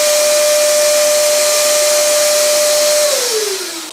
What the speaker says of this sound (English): Let's make a measurement 1 meter away from the old shop vac.